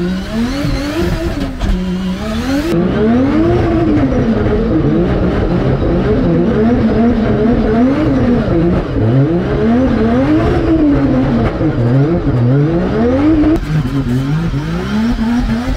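WRC rally car fitted with gravel tyres, engine revving hard up and down in steady surging cycles as it drives, loud and close for the whole stretch with no voices.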